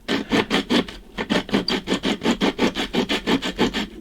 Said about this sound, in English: So I did a little of this filing here carefully